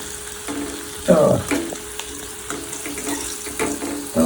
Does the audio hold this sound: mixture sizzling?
yes